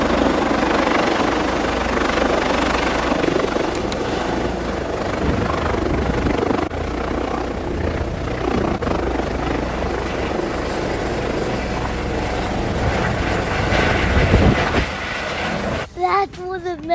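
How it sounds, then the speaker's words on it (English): Helicopter flying, a loud continuous rotor and engine roar held steady throughout, close to the listener, cutting off abruptly near the end. "we're going to take you with us on a helicopter ride"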